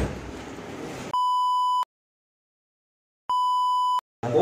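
A steady electronic phone tone after a call is hung up, sounding as two identical one-second beeps separated by silence, loud and clear with no talk over them.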